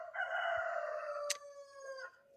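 A backyard chicken gives one drawn-out, tonal call lasting about two seconds, close and clear in a quiet yard, with a short sharp click partway through.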